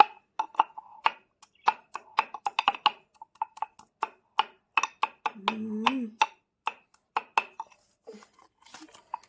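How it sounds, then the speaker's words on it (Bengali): Sapodilla and mint get mashed with the back of a knife, producing quick, close, sharp taps and knocks in irregular bursts, with a brief voice sound partway through. "এই সবগুলোকে একটুখানি ছুরির পিছনটা দিয়ে ম্যাশ করে নেব"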